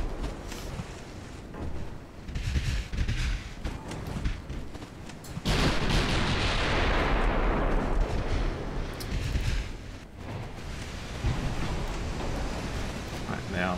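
Naval gunfire in the video game Dreadnought Improvement Project, with heavy rumbling booms and a loud sustained roaring blast partway through, surrounded by dense battle noise.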